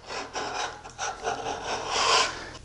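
A hard, flat sanding block is rolled over the sharp corner of edge banding, giving a run of short, close rasping rubs in uneven strokes, with no voices.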